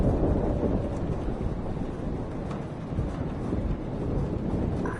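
A thunderstorm rages in the video game Life is Strange, a continuous loud roar of wind and rain with low rumbling throughout, no voices.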